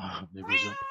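A cat trapped in ice in Minecraft gives a short, single meow, close and clear, right after a brief spoken phrase.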